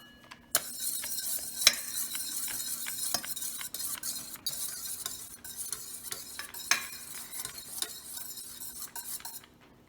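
Egg, oil and milk for chocolate muffins get whisked in a bowl: a close, busy run of rapid clicking and scraping strokes with sharp taps against the sides. No voices are heard.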